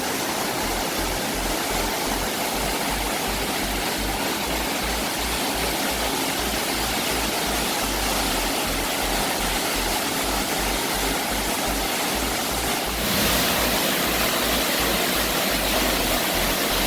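Cascada San Juan waterfall near Santiago de Chile roars as a steady, dense rush of falling water close by, unbroken for the whole stretch and slightly louder near the end, with no talking.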